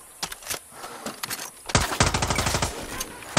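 A gun in the video game Far Cry 6 fires loud single shots, then a rapid automatic burst of about a dozen reports before a final shot, with no talking.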